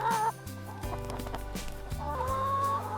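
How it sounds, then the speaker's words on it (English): Hill chickens cluck softly on a farm, a few close, scattered calls and murmurs over quiet background noise. "A healthy hill chicken is strong and active."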